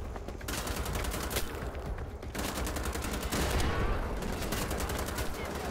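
Gunfire in Wolfenstein: The Old Blood: dense, continuous automatic shooting with rapid rhythmic bursts, loud and close and barely pausing, with a voice under the shots.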